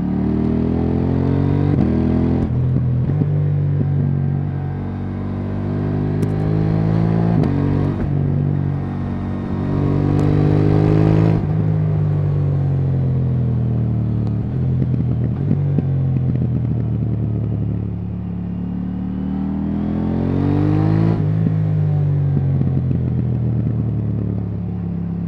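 A KTM 890R Duke with an Akrapovic slip-on exhaust revs repeatedly from idle, its deep twin-cylinder note climbing and falling in several long, loud swells with a steady rumble between, close by and without speech.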